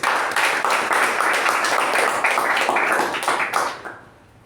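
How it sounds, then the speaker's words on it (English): Applause for the evaluator and the speaker at a Toastmasters-style club meeting, a dense round of clapping from a small group that holds steady for several seconds before fading out. "let's give a big round of applause for both the evaluator and the speaker"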